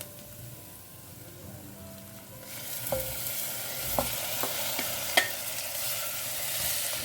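Clams tossed into a pan of onions already fried for a couple of minutes start sizzling loudly, and a spoon clinks against the pan a few times as the mixture is stirred.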